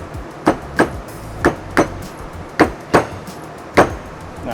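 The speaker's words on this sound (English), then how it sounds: "you're just taking your hammer to lightly tap it into place" Light hammer taps seat a plastic cap during a 2024+ Toyota Tacoma level and lift kit install, about eight sharp, evenly spaced knocks close up in a quiet workshop.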